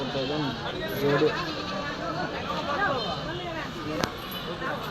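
Goats bleat repeatedly at a crowded goat and sheep market in Kadiri, the calls rising above a steady murmur of traders talking nearby.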